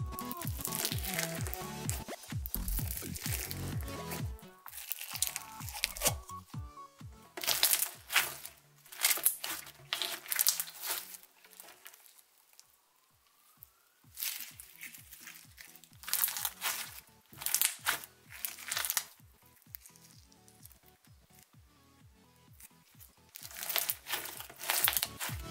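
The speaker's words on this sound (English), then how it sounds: "It's gonna be super crunchy." Crunchy slime packed with foam beads is squeezed and squished close up, giving repeated loud crackling, popping crunches in uneven bursts with brief quieter pauses between presses.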